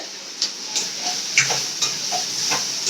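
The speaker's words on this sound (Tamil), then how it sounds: "மட்டனுக்கு வெங்காயம் வதங்குது" Onions sauté in a pan for mutton gravy, giving a soft continuous sizzle with a few light stirring taps and clinks.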